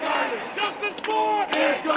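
Angry crowd of protesters chanting and shouting in the streets of New York after a grand jury decision, a loud dense mass of voices with rising yells and rhythmic chants close by.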